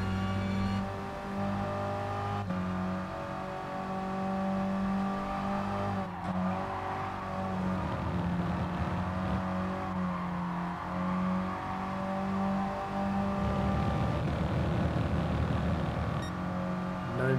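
A race car engine in the Gran Turismo Sport racing video game, droning and revving continuously at high pitch with shifting tones throughout, steady and loud with no talk.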